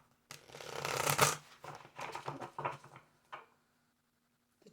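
A deck of tarot cards being shuffled and cut, a close riffling burst followed by several shorter papery slaps and taps, then quiet.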